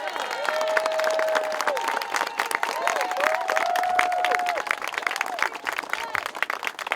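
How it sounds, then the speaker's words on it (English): Sustained applause and crowd noise with scattered cheering at a press conference after a march, steady throughout, while a voice speaks over it. "give them a round of applause"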